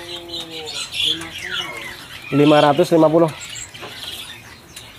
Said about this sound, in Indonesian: Ini ada Raja Perling mas ya?